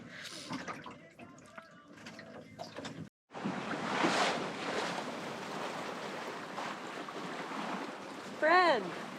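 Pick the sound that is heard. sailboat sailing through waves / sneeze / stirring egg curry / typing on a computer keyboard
sailboat sailing through waves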